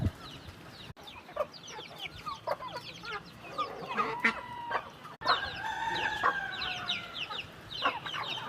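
Farm chickens cluck and chatter steadily in the evening, with several overlapping birds close by and occasional louder calls, against a low outdoor background and no talk.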